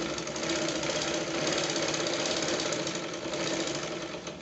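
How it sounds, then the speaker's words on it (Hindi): Sewing machine running a steady straight seam on a six-panel petticoat, a continuous close mechanical whir with rapid needle knocking, loud and unbroken with no talk. "और सीधी सिलाई लेते जाएं।"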